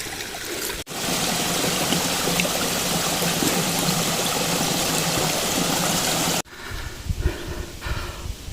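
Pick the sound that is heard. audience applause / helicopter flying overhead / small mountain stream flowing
small mountain stream flowing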